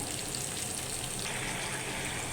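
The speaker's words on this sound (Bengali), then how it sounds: "পেঁয়াজটা ভাজা হচ্ছে" Steady crackling sizzle of onions frying in a pan, a continuous hiss with no pauses and no voices.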